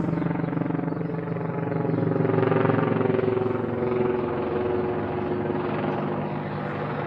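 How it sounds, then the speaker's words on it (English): A military helicopter passes overhead with a steady, loud rotor thrum that swells slightly in the middle and then holds for several seconds, with no talking. "this military helicopter seems to be watching me"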